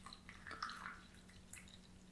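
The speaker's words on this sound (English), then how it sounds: "Put the water in there." Warm, not-quite-boiling water pours into a cup holding a tea bag, a soft, close trickle and splash that swells briefly and fades into faint drips in a quiet room.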